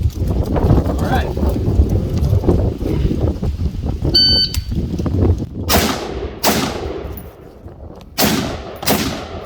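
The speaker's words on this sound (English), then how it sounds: "the first stage of this drill is to shoot 2 rounds, 2 knee, and 2 shoulder" Several loud shots from an XM16E1 rifle crack sharply in quick succession near the end of a shooting drill, following a stretch of wind noise, a timer beep and someone talking.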